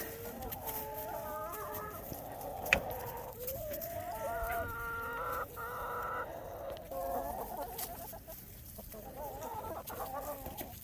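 A morning flock of about 56 chickens clucking and murmuring continuously nearby, overlapping calls rising and falling with no talking.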